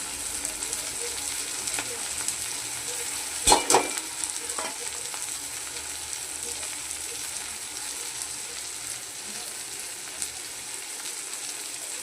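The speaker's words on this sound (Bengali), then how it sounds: "এই যে মশলাটা কষানো হচ্ছে।" Ground spices cooking with tomatoes and onions in a pan, a steady moderate sizzle with a brief burst of clattering stirring strokes near the middle, then continuous frying.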